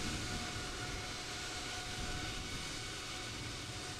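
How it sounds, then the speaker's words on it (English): Steady broadband jet engine roar of an Emirates Airbus A350 in Microsoft Flight Simulator 2020 at Edinburgh airport, a constant loud whine and rumble with a faint tonal hum, no talking. "The Airbus A350 from Emirates has made an appearance."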